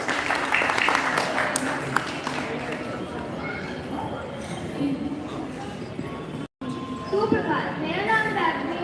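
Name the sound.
audience applause for a student at a school event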